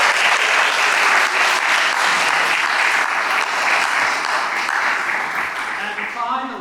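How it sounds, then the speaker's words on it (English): Audience at a music scholar recital giving a warm, sustained round of applause, dense and loud clapping from many hands that slowly tapers toward the end, with a voice briefly audible as it fades. "please give a warm round of applause for their teachers too"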